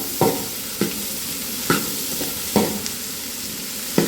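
Garlic and onion frying in a pan for gobi manchurian: a steady close sizzle broken by about six sharp scraping stirs at irregular intervals, with no voices.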